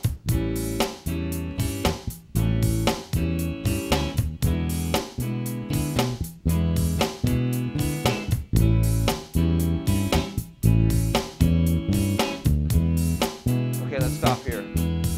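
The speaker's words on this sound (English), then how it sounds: "So I'm going to play these dominant chords over the drum machine groove that gives me a little bit more of an R&B feel." Dominant seventh chords on guitar are strummed steadily over a drum machine groove with an R&B feel, the chord hits and beat pulsing continuously and loudly throughout.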